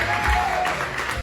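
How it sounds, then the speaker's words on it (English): A stand-up comedy audience applauds and cheers in a brief, steady wash of clapping that fills the room. "Make it loud. Just give as much cheer as you can for Jordan Quattlebaum."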